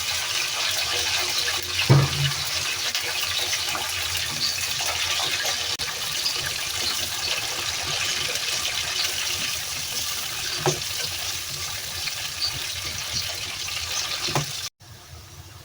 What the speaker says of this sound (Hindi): ऑयल हमारा गर्म हो चुका है, अब हम इसमें डालेंगे आलू।